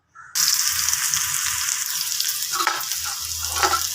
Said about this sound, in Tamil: இப்போ நல்லெண்ணெய் ஊற்றிக்கிட்டோங்க நம்ம வெட்டி வச்சிருக்கிற இந்த பீக்கங்காவை சேர்த்துக்கலாம்